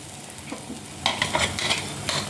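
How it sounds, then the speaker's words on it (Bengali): A beaten egg fries in a frying pan, with a soft, even sizzle followed by a few brief, close scraping bursts from a spatula. "একটু এরকম কমিয়ে এটা একটু ভেজে নিব"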